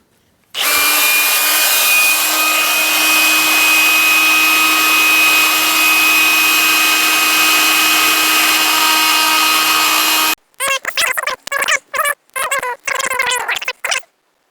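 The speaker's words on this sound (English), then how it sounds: "we got our new grinding stone on in the mandrel" A cordless power tool spins a new grinding stone on a mandrel, a loud continuous high whine for about ten seconds, then short bursts of grinding against metal in rapid stop-start pulses, close up and alone.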